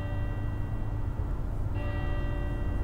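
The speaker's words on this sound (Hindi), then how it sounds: "ये देखो बैल भी बज चुकी है चर्च की घंटी" A church bell in a bus-driving video game tolls steadily over a dense, droning background, its sustained ringing tones holding throughout with a slight shift partway through.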